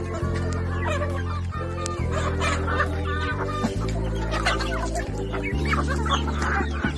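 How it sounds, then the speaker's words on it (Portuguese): Chickens clucking and calling in a busy flock while feeding, overlapping close clucks and cackles over a constant low background drone, with no distinct speech. "Você tá vendo como os frangos ficam cantando de alegre porque estão todos se alimentando?"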